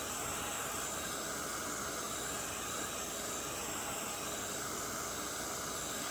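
Distress ink sprayed onto kraft cardstock gives a steady, close hiss of fine mist that runs without a break for the whole stretch, with no voices.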